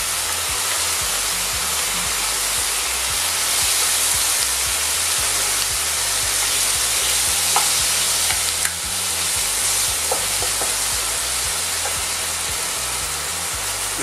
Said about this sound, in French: Je lui mets les mangues et le gingembre.